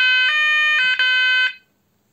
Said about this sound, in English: I might just sound the intelligent sounder bass for fun.